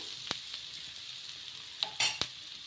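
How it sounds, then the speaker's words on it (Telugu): Turmeric stirred into a hot pan of sizzling oil while cooking a sago (sabudana) breakfast, with a steady soft fry and a few sharp clinks and scrapes of the spoon, near and without talk. "ఇలా ఈ విధంగా కొంచెం పసుపు వేసుకొని ఒకసారి బాగా కలిపేసుకోవాలి"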